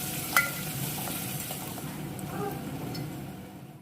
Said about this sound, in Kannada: ಒಂದು ಸ್ವಲ್ಪ ಹಸಿಮೆಣಸಿನ್ಕಾಯಿ ಹಾಗೆ ಈರುಳ್ಳಿನ ಹಾಕಿ ಲೈಟಾಗಿ ಫ್ರೈ ಮಾಡ್ಕೊಳ್ತೀನಿ